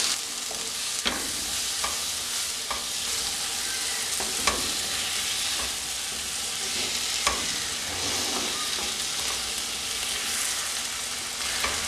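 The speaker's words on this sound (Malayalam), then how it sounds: "അതിനകത്തേക്ക് ചേർത്ത് ഒന്ന് വഴറ്റി കൊടുക്കാം." Chopped tomato sautéed in a hot pan for okra curry, a continuous bright sizzle with a few sharp spatula taps and scrapes scattered throughout, close and steady, no talking.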